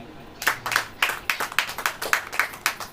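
A church congregation claps at a sermon, a run of about ten sharp, evenly spaced unison claps, fairly close and steady in rhythm.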